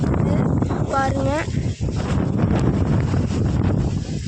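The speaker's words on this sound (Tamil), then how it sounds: "ரொம்ப காற்றடிக்குது." Strong outdoor wind batters the microphone with a loud, continuous rumbling roar that lasts throughout. A person speaks briefly under it while sambar pumpkins are being loaded.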